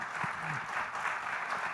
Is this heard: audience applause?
yes